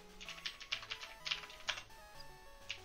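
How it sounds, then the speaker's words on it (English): Keys on a computer keyboard clatter in quick, uneven bursts of taps, faint and close, with no talking. "By the way, the sound you are hearing, it's my keyboard."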